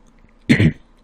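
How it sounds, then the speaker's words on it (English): A single short, harsh throat clearing, close and sudden against a quiet room. "Sorry for all the coughing and stuff."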